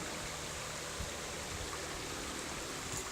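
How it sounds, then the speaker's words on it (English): A deep run creek in the old Des Plaines River Valley bed flows with a steady, soft rushing wash and faint trickles, heard close and alone without talk. "They ran a creek through it, a deep run creek."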